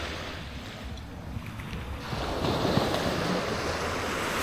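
Sea waves wash onto Canasvieiras beach at night, a steady broadband rush that swells louder midway and stays continuous, with wind noise and no talking.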